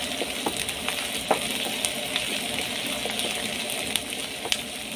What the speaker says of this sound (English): I'm going to fry my onions until they are golden brown